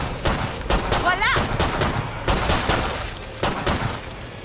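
Rapid bursts of gunfire from the zombie shooter Killing Floor 2, firing repeatedly in close, loud volleys throughout, mixed with other in-game sounds and a voice.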